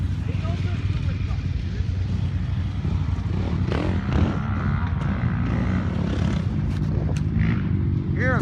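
A Can-Am Outlander 700 ATV fitted with aftermarket exhausts drones with a deep, throaty engine rumble that swells as it revs and shifts, heard close with someone talking over it.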